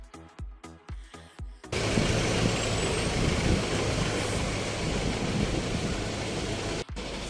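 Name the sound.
road traffic with buses and cars in Old Manali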